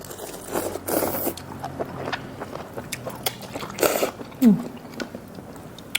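Several crisp crunching bites and chewing sounds up close, with rustling and faint scraping between them in a quiet room.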